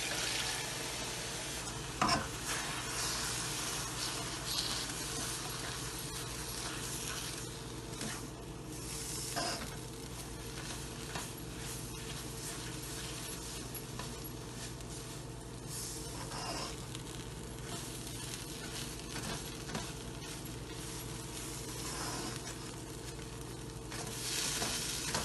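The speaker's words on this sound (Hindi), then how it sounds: "जब तक हमारी दाल भुन रही है" Chana dal roasting in a pan for a sweet halwa as milk is added bit by bit, with a continuous soft sizzle and periodic stirring scrapes, fairly quiet and without talk.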